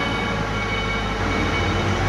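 Heli forklift truck driving in reverse, a loud steady mechanical drone and rumble with a constant hum, continuous for a couple of seconds and close by, no talking.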